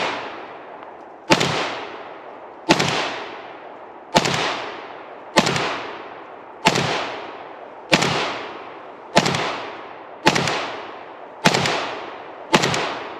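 An AKM rifle without its sugar-scoop muzzle brake fires ten loud, sharp single shots at an even, unhurried pace, each crack trailing off into a ringing echo before the next.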